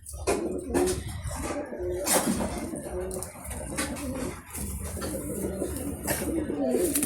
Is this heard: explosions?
no